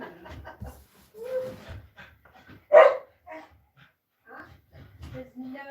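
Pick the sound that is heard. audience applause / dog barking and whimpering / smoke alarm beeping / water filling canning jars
dog barking and whimpering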